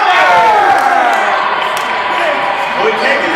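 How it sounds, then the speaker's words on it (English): A game show studio audience cheers and applauds in a loud, dense wash of crowd noise that stays steady for the whole stretch, with scattered shouts rising above it. "The crowd cheering."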